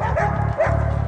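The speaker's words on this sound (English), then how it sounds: "Even the police dogs are picking up on the tension." A police dog barks in repeated loud, close yips and woofs, several in quick succession, during a tense armed standoff with a group of youths.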